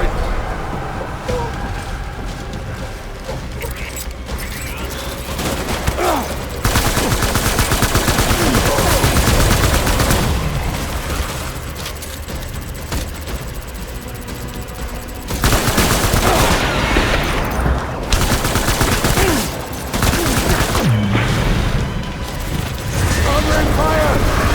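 Dense gunfire and machine-gun bursts rattle through a combat scene in the video game Death Stranding, loud and sustained in waves, with shouted voices breaking through the chaos.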